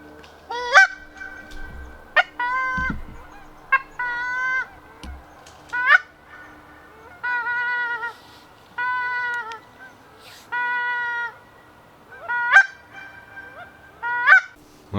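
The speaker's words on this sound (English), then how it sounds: "Oh, geese coming in here." A flock of geese flies in over a waterfowl hunting spot in the bush, honking in repeated bursts of rising calls, loud and close, with quiet gaps between volleys.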